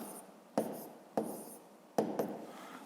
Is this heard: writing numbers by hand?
yes